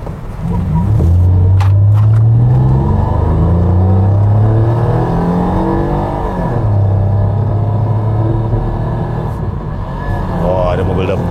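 Toyota Alphard 3.5 Q 2008 picking up speed on the road, a steady engine drone that rises and falls in pitch under constant road rumble, with people talking inside the cabin.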